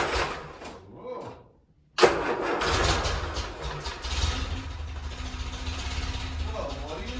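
A Land Rover Series 3 engine cranks briefly, then catches and settles into a rough, uneven idle that carries on close and fairly loud, with a voice heard over it.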